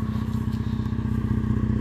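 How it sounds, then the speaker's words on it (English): A Chevy car idles with its muffler exhaust disconnected, giving a steady, loud, close throbbing rumble with a rapid pulsing beat and no voices. "He disconnected his muffler exhaust or something, man. You hear it, plum, plum, plum, plum, plum."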